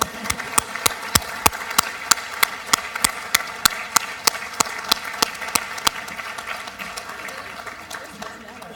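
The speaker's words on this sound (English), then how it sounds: "All right, let's clap one more time." An audience at a youth human rights awards ceremony claps together in a steady rhythm, sharp regular claps at about two per second. The claps fade slightly toward the end over a faint room murmur.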